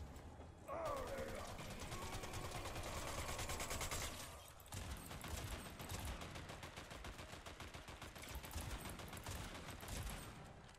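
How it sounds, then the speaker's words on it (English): Faint, distant Fortnite gunfire rattles in rapid, steady bursts almost without pause, low in level throughout with no clear talk over it. "I do hear firing nearby"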